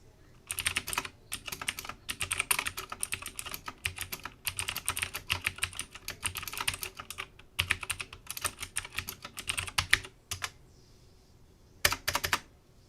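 Typing on a Nixeus Moda Pro mechanical keyboard, with quick bursts of crisp, close key clacks in an uneven rhythm, broken by short pauses and ending in a final flurry.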